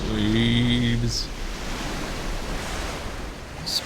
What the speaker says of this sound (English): And the Terror Tower crashes back down into the waves.